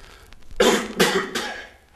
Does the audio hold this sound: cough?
yes